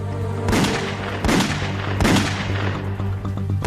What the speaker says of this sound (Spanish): Sirham saca su revólver y abre fuego.